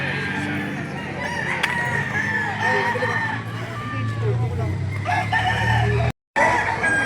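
Chickens and roosters, including stags, crow and cluck at a livestock auction market in Lipa City, Batangas, with several loud, drawn-out crows overlapping busy bird chatter and a brief dropout near the end.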